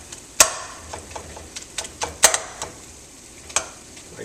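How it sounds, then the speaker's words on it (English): A spoon stirs cream cheese into cooked meat in a pot, giving sharp scattered clinks against the pot over a soft background, close and fairly quiet. "Now we will stir evenly and let it simmer for a little bit."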